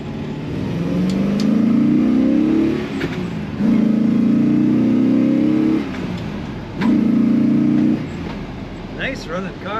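1966 Chevrolet Impala SS two-door hardtop accelerating on the highway through three rising gear pulls, each ending in a brief lull between shifts, loud and close from inside the car, with a voice briefly at the end.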